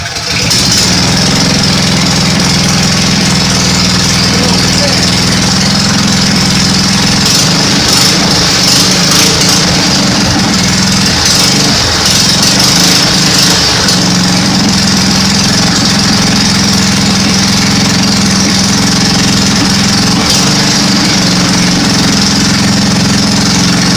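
A salvaged small engine on a go kart runs loud and close, producing a steady buzzing drone with slight fluctuations in its note throughout.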